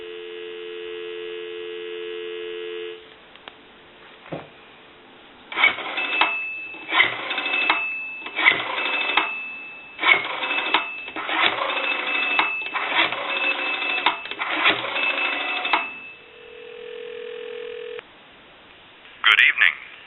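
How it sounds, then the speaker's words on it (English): Dial tone from a French-style telephone, steady at first, then a series of rhythmic rotary dialing pulses and bursts, a brief tone, and a short ringing burst at the end, close and clear with line hum. "We'll go ahead and give you some dial tone."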